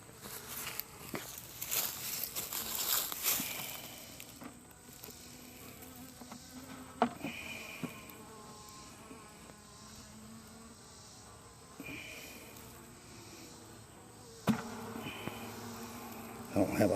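A small honeybee swarm buzzing in a hive box, a close, continuous hum with individual bees passing by the listener, plus scattered knocks and handling sounds around it.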